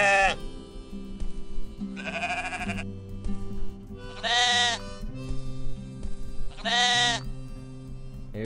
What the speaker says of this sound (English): Whoa, look at this sheep. Bah! Bah! Bah! I like this sound effect.